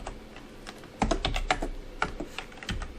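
Someone types a value on a computer keyboard in a quick, irregular run of close, crisp key clicks.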